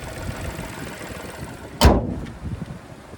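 A 2024 Chevrolet TrailBlazer ACTIV AWD with a 1.3 liter turbocharged 3-cylinder engine idles as a low, steady hum, broken midway by a single sharp thump.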